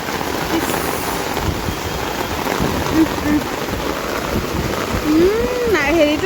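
Rain pours steadily onto surfaces outdoors, a dense continuous hiss with gusts of wind, while voices talk loudly over it throughout.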